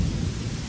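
Rain pours steadily with deep rolling thunder rumbling underneath during a tense scene on a slippery muddy slope in a Japanese film, a continuous dense wash of low rumble and hiss with no voices.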